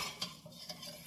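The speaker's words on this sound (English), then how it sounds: "And we stir it." A spoon stirs chicken noodle soup in a pot, making a brief, quiet swish with a couple of soft clinks against the side.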